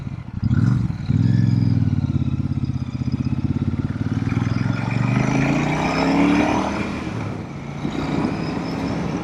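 A Royal Enfield Super Meteor motorcycle with mid controls rides through town, its engine a loud, steady close-up thrum with a rise in revs toward the middle before easing off, the rumble continuing throughout with no talk.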